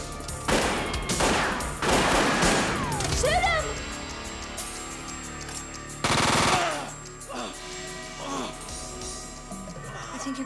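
Rapid machine gun fire in a 1997 thriller, loud, close bursts of fast repeated shots in two main volleys, with shouting voices and other action sounds between them.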